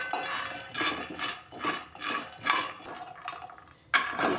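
Peanuts dry-roasting with sand in a pot on a stove, stirred in steady rhythmic bursts of rattling and scraping, close and moderately loud, with no talking.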